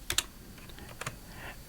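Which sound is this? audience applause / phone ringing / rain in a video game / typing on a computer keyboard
typing on a computer keyboard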